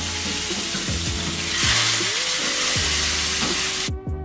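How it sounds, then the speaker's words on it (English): Two salmon pieces coated in olive oil and pink salt frying in a pan, a loud steady sizzle and hiss that cuts off abruptly at the end. "I'm gonna take the two salmon pieces which I've coated with olive oil and pink salt, and I'm basically gonna fry it until they're done"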